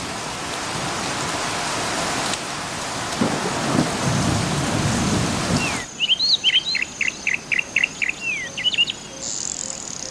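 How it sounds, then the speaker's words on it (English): Heavy rain hisses steadily in meerkat habitat, then abruptly stops, leaving a series of rhythmic insect chirps. "Only when the rain begins in earnest does Nkosi head for the shelter of the burro"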